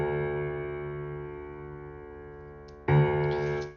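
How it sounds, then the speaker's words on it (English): Unprocessed piano bass notes ring out with a soft, sustained, quiet tone that slowly decays. A fresh note is struck near the end, and no one talks over it. "bass created by the piano."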